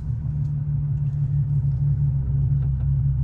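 Nissan 370Z NISMO engine idling as a steady low rumble while the clutch is worked, smooth and unchanging with no voices.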